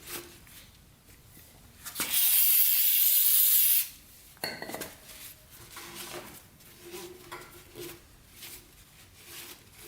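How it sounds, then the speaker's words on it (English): Brake cleaner is sprayed onto a paint-coated Honda CB350 motorcycle part in a single loud, close hiss lasting about two seconds, followed by quiet handling noises. "So at least we know we can get the blue paint off with a little brake cleaner."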